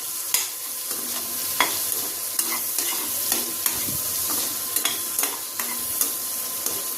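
Onions and tomatoes cook in a pan for a hotel-style palak paneer, a steady sizzle under repeated scraping and stirring strokes from a spoon against the pan, with no one speaking.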